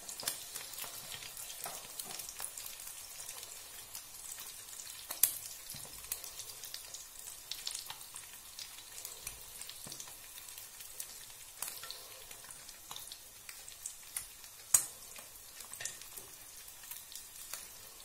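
An egg bullseye fries in an open pan over low heat with a faint, steady crackle and scattered small pops.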